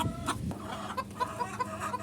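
Chickens on a fancy-breed poultry farm in Joypurhat, Bangladesh, cluck close by in a quick series of short, soft clucks, with a sharp squawk near the start and a faint background hum.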